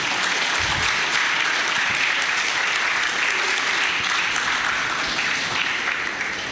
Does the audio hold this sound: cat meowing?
no